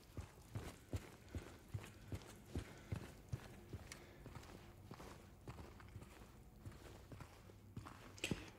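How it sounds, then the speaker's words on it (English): Footsteps in the Silent Hill 2 Remake walk through the Wood Side Apartments, a steady run of soft thuds about twice a second over a low ambient hum, near and fairly quiet. "I swear I hear a footstep."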